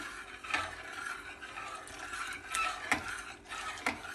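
A spoon stirs thickening chicken corn soup in a pot, giving soft scraping, rubbing strokes with a few sharper clicks against the metal, fairly close and quiet, with no voices.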